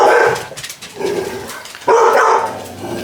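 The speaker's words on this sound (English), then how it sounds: "They bark at her every time she comes home." Indoor dogs barking loudly and close, in two bursts of repeated barks with yips and a brief lull between.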